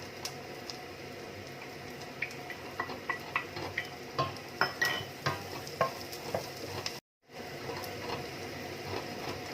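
Garlic and onions sauté in a pan for a Filipino ginisang mongo dish, with a soft steady sizzle under repeated light clinks and scrapes of a utensil stirring, and a brief dropout near the end.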